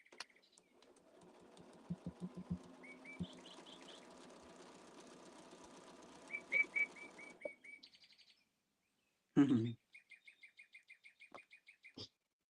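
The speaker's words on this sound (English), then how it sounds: "there's our Chirpy Chirpy. We'll listen to Chirpy for a minute" A pet bird chirps indoors in short repeated tweets, faint and close, some in quick rhythmic runs, alongside soft mechanical whirring that fades out midway.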